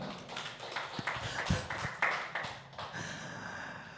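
Congregation clapping during a church worship service, a scattered, uneven patter of hands that fades toward the end, with indistinct background sound.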